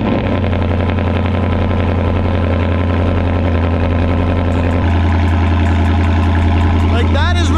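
A Ford Mustang GT 5.0 with an aftermarket exhaust on cold start, a loud, steady, deep idle rumble held close throughout, with a slight shift in tone partway and a brief higher squeal at the end.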